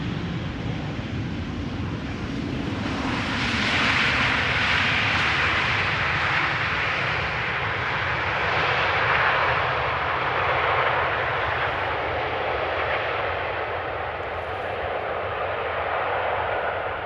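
A jet airliner rolls out after landing at Amsterdam Schiphol, its thrust reversers briefly deployed, giving a loud, sustained broadband roar that swells mid-way and stays steady without any voices.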